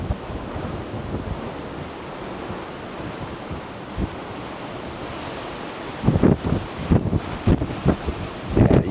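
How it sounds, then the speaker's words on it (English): Strong wind buffets the microphone on the open deck of the Utopia of the Seas cruise ship, with rough seas and surf rushing continuously below and louder gusts bursting through near the end. "you guys can probably hear that wind"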